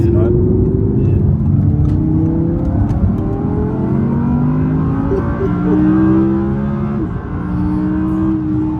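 An Audi R8 V10 supercar engine drones and revs under load, a loud steady rising tone that swells and settles, with a person talking over it.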